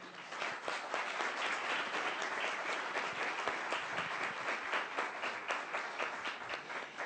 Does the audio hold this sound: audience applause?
yes